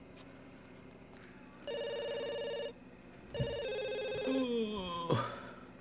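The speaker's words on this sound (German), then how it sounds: "Hier klingelt das Telefon mitten in der Nacht." A telephone rings in the middle of the night in The Sims 2, sounding as repeated electronic ring bursts with pauses between them, alongside other chiming game sounds and quiet background.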